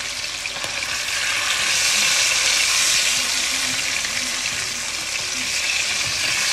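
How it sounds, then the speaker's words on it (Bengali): Hilsa fish fries under a lid in a covered pan, making a loud, continuous sizzling hiss with faint stirring scrapes and no voices. "মাছটাকে এভাবে একটু ঢেকে আমি কষায়ে বা ভুনা করে নিব দুই পাশই"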